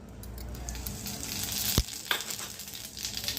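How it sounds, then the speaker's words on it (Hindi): Cumin seeds hit hot oil in a pan for shahi paneer, a sharp burst of sizzling at about the halfway point that settles into a steady, close frying crackle. "तेल हो चुका है हमारा गरम, और इस गरम तेल में डालेंगे हम जीरा"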